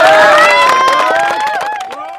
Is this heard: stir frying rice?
no